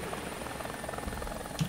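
Helicopter rotor drone from War Thunder, steady and fairly faint as a continuous low whir with no voices, ending on a short louder burst.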